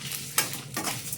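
Dried red chillies and garlic fry in a pan, a close sizzling hiss broken by a few sharp scraping stirs against the metal.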